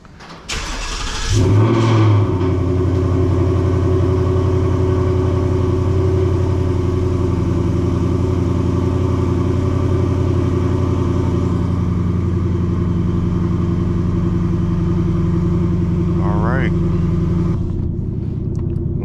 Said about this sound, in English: Let me go ahead and roll my window down so y'all can hear the cold start